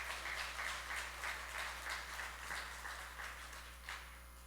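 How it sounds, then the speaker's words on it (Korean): A church congregation applauds a student group at a Sunday service, soft and rather distant clapping with a rhythmic, steady pulse under a constant low hum. The clapping thins toward the end. "우리 학생부 친구들에게 다시 한번 좀 박수를 보내주시기 바랍니다."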